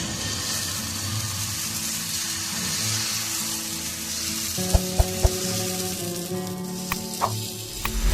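Ghee heating on a griddle for patishapta pitha, a steady close sizzle with a hum running underneath and a few sharp clinks of utensils toward the end, no speech.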